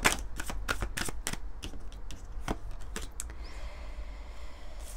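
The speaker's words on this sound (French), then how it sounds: "j'ai envie de prendre quelques cartes de l'oracle, du tarot, pardon, de Laura." Tarot cards are shuffled by hand in a rapid series of crisp riffling snaps close by, then the shuffling eases into softer sliding.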